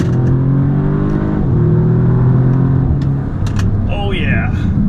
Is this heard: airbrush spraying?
no